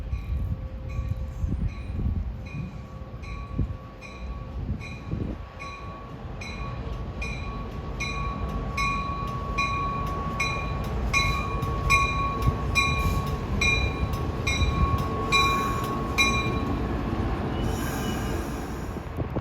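Caltrain local train 123 pulls away toward San Francisco with a steady rumble of wheels on rails, rhythmic clicking over rail joints and a thin high squeal, building and staying loud throughout.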